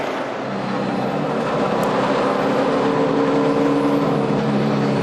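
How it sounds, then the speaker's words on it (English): A NASCAR stock car engine runs out of fuel at Homestead-Miami Speedway, a steady droning rumble that holds at a constant level without bursts or talk. "You hear the engine running down."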